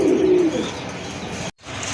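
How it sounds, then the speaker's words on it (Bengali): A pair of Indian Bombay pigeons gives a short, low coo at the start, followed by quieter rustling and soft background noise before a sudden brief dropout. "এক জোড়া ইন্ডিয়ান বোম্বাই কবুতর, একদম ফুল ফ্রেশ কবুতর"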